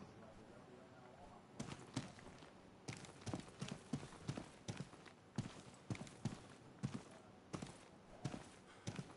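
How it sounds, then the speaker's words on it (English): Player footsteps running in the video game Deadside, a series of distinct, fairly loud thudding steps in uneven bursts with short pauses between them, alone with no talk. "I can hear him running around."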